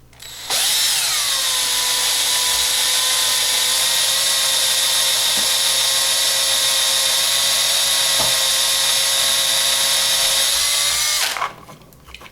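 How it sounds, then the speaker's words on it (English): A power drill with a 1/16 bit whines steadily at high speed for about eleven seconds, loud and close, drilling out the rivet post of a Hot Wheels 1964 Continental die-cast car, then winds down abruptly. "It started drilling out the post."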